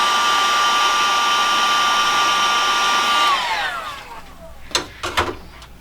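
A hair dryer blows steadily and loudly on a Dreamcast kiosk cable part to warm it. Its whine then drops in pitch as it switches off, followed by a few sharp handling clicks.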